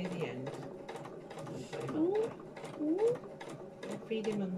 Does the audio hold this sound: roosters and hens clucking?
no